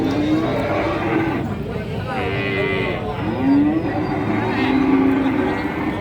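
Cattle mooing at a cattle market, several drawn-out low calls from nearby cows, with people talking and crowd bustle in the background.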